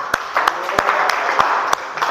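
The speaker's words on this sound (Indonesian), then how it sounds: "Tepuk tangan." A small group claps in short, uneven bursts, a handful of sharp slaps spread across a couple of seconds over a soft background murmur.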